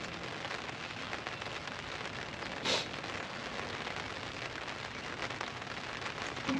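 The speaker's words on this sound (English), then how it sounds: "it starts to rain again." Rain falls steadily at an outdoor campsite, a dense continuous patter with one brief louder burst partway through, no voices.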